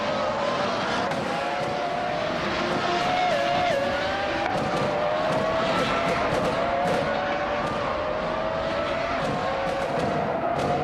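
Race cars roar continuously, including a 1996 McLaren MP4/11 Formula One car, with high-pitched engines whining and rising through gears, overlapping loud and close with no pause.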